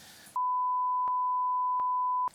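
Steady electronic censor bleep, a single pure tone held for about two seconds over spoken content, abruptly cutting off talk before and after it, with a few clicks at the edits.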